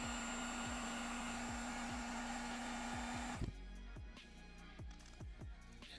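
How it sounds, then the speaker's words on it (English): A heat gun blows with a loud steady whir and whine while heating a threaded insert into plastic, then cuts off abruptly partway, leaving quieter clicks and handling noise. "So all I'm gonna do is take a heat gun, heat up the insert, heat up the base material just a little bit"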